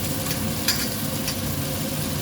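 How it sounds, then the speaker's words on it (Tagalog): Egg is scrambled in a hot frying pan, giving a loud, constant sizzle with light scraping and stirring throughout and no voices. "i-scramble ko muna yung egg"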